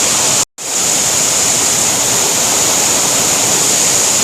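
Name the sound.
waterfall near Kuntala Falls, Telangana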